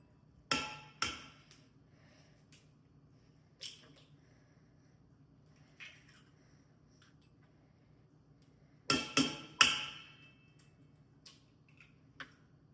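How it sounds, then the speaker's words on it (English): Two eggs cracked into a bowl for madeleine batter, heard as sharp isolated taps on the rim and shell snaps in a quiet kitchen, with a few softer clicks in between. "In this next bowl, we're going to crack 2 eggs."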